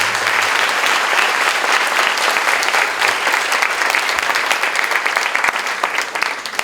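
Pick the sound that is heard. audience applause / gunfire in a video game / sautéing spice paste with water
audience applause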